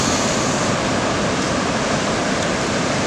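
Ocean waves break at a busy surf spot in Anglet, making a steady, unbroken roar of surf throughout, loud and close.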